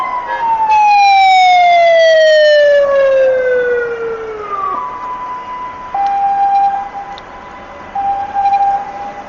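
A wailing ambulance siren outside a large hospital in Guangzhou sweeps loudly downward in pitch, then settles into steady, shorter tones as it fades somewhat, with traffic rumble underneath.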